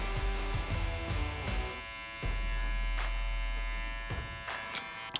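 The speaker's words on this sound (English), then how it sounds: "And then we work our way down, opening up the clipper." Electric hair clipper shaping a beard, a steady close buzz with a mains-like hum that cuts out briefly midway, then resumes, ending with a few light clicks and rustles.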